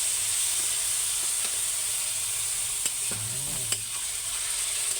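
Tofu and water spinach are stirred in a frying pan, giving a steady sizzle with a few soft scrapes of the utensil and no talk.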